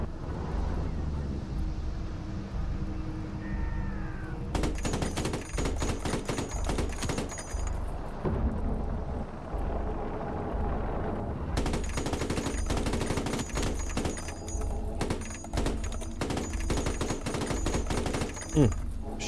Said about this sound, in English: Machine gun's not that inaccurate.